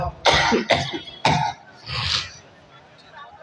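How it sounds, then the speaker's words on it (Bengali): A man coughs three times in quick succession, fairly close, followed by a softer throat-clearing rasp. "শরীর ঘাম নেই কাশি আসে"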